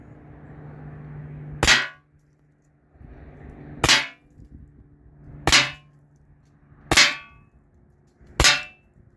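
Five sharp cracks from a Byrna launcher, each followed by a quick metallic clang as balls strike an aluminum panel about 12 feet away, spaced roughly a second and a half apart.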